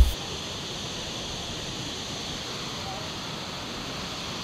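Water from a waterfall at Kuala Kubu Bharu gushing over and through rocks, a steady broadband rushing hiss heard at moderate distance, continuous and even.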